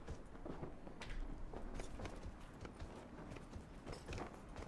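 Faint, rapid hoof clip-clops of a horse in the video game Dragon Age: Inquisition, moving at a steady pace, soft repeated knocks over a low background rumble, with no talking.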